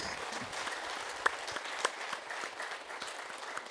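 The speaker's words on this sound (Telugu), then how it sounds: "మనందరికీ క్లాప్స్." Steady applause fills a lecture hall as a class claps for everyone present, a dense, even wash of many hands with a couple of louder individual claps poking through.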